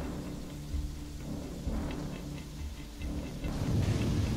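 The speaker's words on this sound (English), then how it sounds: "Don't think I've been in an environment yet that has heavy rain." Heavy rain with rumbling thunder in the Freedom Wars video game, a steady wash of rainfall under deep low rolls of thunder that grow louder toward the end, with no talk.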